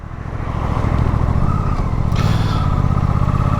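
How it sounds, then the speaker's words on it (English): A 2023 Suzuki GSX-8S parallel-twin motorcycle engine with a 270-degree crank and two balancer shafts revs up loud and close, building to a smooth, steady high-revving drone. "lovely and smooth for a parallel twin, this engine"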